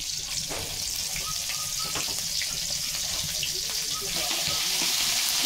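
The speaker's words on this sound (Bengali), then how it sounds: "পেঁয়াজ রসুনটা ভালো করে ভেজে নেব।" Onion and garlic paste fries for a duck curry, giving a steady, bright, hissing sizzle that stays loud and even throughout.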